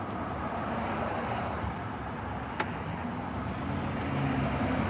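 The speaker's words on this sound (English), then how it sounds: "Trying to get there with all this traffic," A car creeps through heavy city traffic in New York, a steady low road and engine rumble inside the cabin, with one brief sharp click partway through and no voices.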